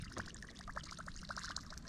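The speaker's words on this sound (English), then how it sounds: "as you retrieve this through the water, it just makes a little propeller noise, like a dying bait fish kind of skidded across the top of the water" A topwater fishing lure's propeller skids across the water's surface on the retrieve among the Port Aransas mangroves, a faint, fluttery splashing patter that runs steadily and quietly throughout.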